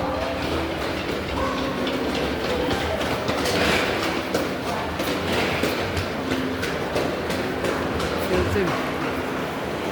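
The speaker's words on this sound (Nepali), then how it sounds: "अब म ट्रेन चढ्न फेरि जाँदैछु" A train rumbles along with rhythmic clicking and clattering, a steady mechanical roar with faint voices underneath.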